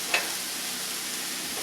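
Sausage sizzling in a hot pan for a smashed sausage burger pizza topping, a steady broadband hiss with a brief louder crackle near the start, no talking.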